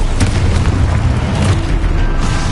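Booming blasts of the Confringo spell in Hogwarts Legacy roll out as a dense, low, rumbling explosion with overlapping bursts, loud and sustained over game sound.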